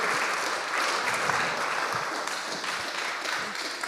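An audience applauds to encourage a guest speaker, a steady wash of many hands clapping, moderately loud and continuous throughout, with no talking.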